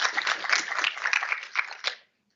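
Audience applause at a port commission meeting: steady, moderately loud clapping from a roomful of people for about two seconds, ending abruptly into silence.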